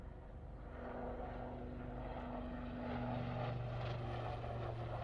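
Helicopter flying a display routine at Farnborough International Airshow, pulling up into a steep climb; a steady, distant rotor and engine drone with a low tonal hum that rises slightly in pitch and level, heard without talk.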